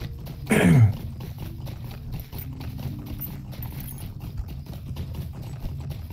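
Horse hooves clip-clop steadily in a Lord of the Rings video game, a regular rhythmic trot with a louder thump near the start, and no talk over it.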